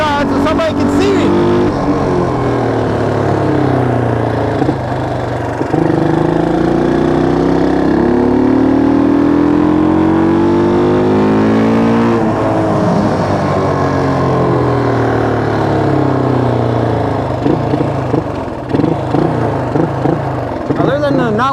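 A Honda XL175 dual-sport motorcycle engine runs in snow with a rough, uneven idle, a loud close-up throbbing drone that rises and falls with throttle, while someone talks over it.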